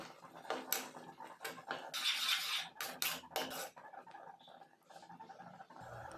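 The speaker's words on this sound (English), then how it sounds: "Mix this well." A spoon scrapes and stirs sambar rice with sambar powder, salt and water in a pot, giving a series of close, soft rasping and clinking strokes at a low level.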